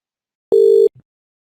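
A single telephone tone sounds when a DID number is dialed, a short clean steady beep of under half a second, loud and isolated in silence, followed by a faint click.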